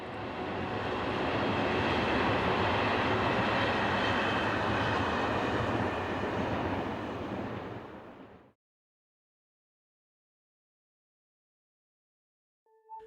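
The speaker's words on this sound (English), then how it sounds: "the same loco is working an evening local service to Modane, seen here leaving Saint-Jean-du-Maurienne." A French BB26000 electric locomotive pulls an evening local train out of Saint-Jean-de-Maurienne toward Modane, making a broad, steady rumble and rush that fades and then stops abruptly, leaving silence.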